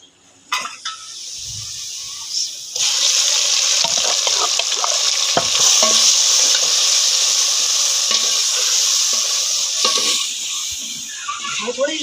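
Onions and masala frying in a pan on a home gas stove, a steady loud sizzle that swells and holds after a few seconds of clatter, with no talking.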